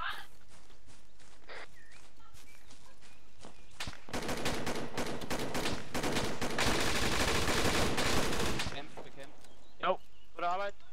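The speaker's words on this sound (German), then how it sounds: "Ja, da fallen noch Schüsse." Rapid bursts of gunfire in the video game ArmA 3 crackle in a dense, sustained volley, framed by scattered single shots and clicks before and after.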